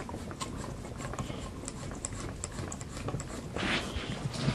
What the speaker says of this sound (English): We're gonna unscrew the pillar ball off of the A-arm.